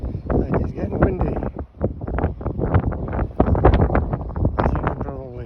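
Wind gusts buffeting a hot tent set up at a base camp, a steady rushing roar with flapping fabric, loud and close, heard under a man's ongoing speech.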